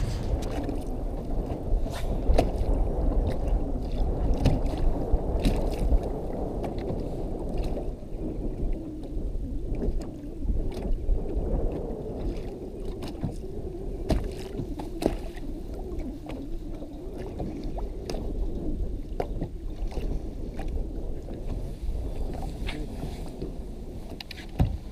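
A fishing boat sets off on chilly water at about 45 degrees, its engine a steady low rumble with wind buffeting the microphone over the full length.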